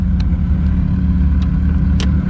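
A modified car engine running on motor rather than nitrous, a loud steady rumble idling close by with no talk.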